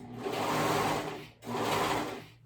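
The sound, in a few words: serger sewing around a cardigan's shoulder seam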